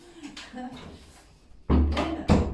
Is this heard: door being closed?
yes